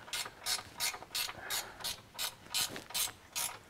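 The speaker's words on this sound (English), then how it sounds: "Could I borrow your socket wrench," A socket wrench ratchets on a car's suspension, a Subaru BRZ, giving about ten crisp, evenly spaced clicking bursts close by with no talk.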